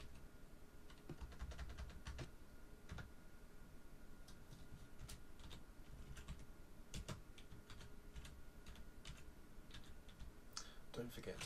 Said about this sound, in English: just type in a little message